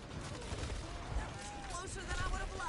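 Rapid bursts of AK rifle fire in a video game, faint and distant-sounding, crackling in uneven volleys across the whole stretch.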